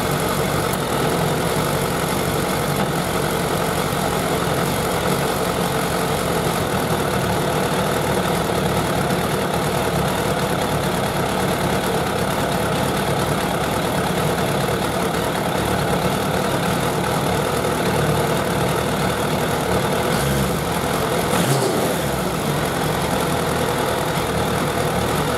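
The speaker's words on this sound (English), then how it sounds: "And you even hear that when the bike is running." A Suzuki Bandit 1200 motorcycle engine idles steadily during a carburetor sync, a continuous, loud, close mechanical drone with an even texture and no talk over it.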